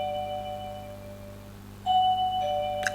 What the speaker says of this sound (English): Why is my doorbell going?